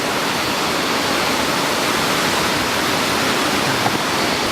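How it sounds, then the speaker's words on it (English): A large waterfall in Huerquehue National Park near Pucón, Chile, roaring as a dense, unbroken rush of falling water, loud and close, with no voices over it. "We have now made it to our first waterfall stop."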